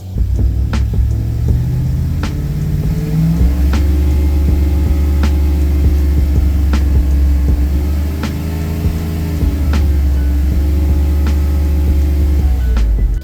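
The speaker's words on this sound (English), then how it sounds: "I'm going to push the little throttle blades and rev it up" A car engine with a distributor runs steadily while its ignition timing is set. It hums loudly and continuously, and its pitch climbs twice as the throttle blades are pushed open to rev it.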